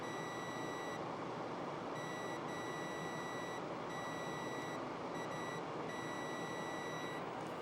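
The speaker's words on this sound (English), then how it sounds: "now it beeps" A high electronic beep from an electric typewriter circuit sounds repeatedly in short bursts with brief gaps, steady in pitch over a constant hiss.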